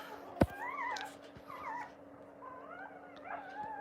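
Pit bull puppies whine and whimper in thin, rising cries, several overlapping squeals close by and faint, with a sharp knock near the start.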